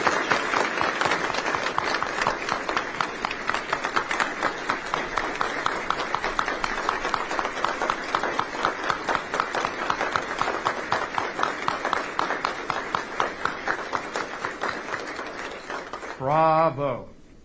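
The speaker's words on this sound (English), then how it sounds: "ladies and gentlemen, a round of applause for Jennifer" Sustained audience applause at a Space Force general's retirement ceremony, steady dense clapping from a large crowd lasting about sixteen seconds, ending with a brief spoken word.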